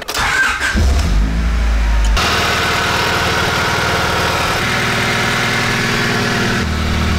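A car engine starts and then settles into a loud, steady idle, a close rhythmic rumble with no talking.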